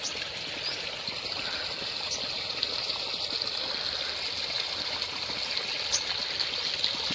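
Water rushes and splashes steadily at a moderate distance, a continuous hissing flow with occasional faint bird chirps above it.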